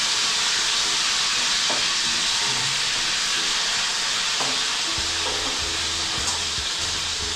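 Tambakol tuna pieces frying in hot oil in a kawali, a loud, steady sizzling hiss with occasional soft clinks and low thumps from the pan, no talk.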